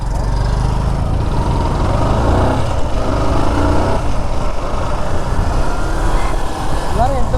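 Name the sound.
motorbike starting off on a ride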